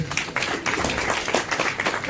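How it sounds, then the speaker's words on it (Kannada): Audience applause at a film teaser launch event, a dense burst of clapping from a crowd that carries on steadily, with voices mixed in. "ಎಲ್ಲರೂ ಜೋರಾದ ಚಪ್ಪಾಳೆ ಬರ್ರಿ ನನಗೆ."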